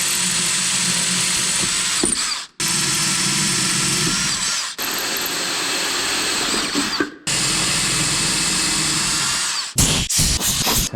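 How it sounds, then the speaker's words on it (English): A power drill with a quarter-inch bit bores into a Honda lawn mower part, three long steady whining runs separated by short pauses, then a final brief burst, loud and close with no talk. "Quarter-inch drill bit."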